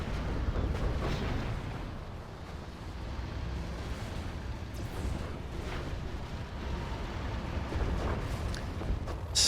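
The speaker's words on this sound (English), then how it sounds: "We've got 2 nuke missiles out." Nuke missiles detonating in a real-time strategy game, a continuous loud rumbling roar of explosions with dense low-end booms that swell and fade over several seconds, with no voices over it.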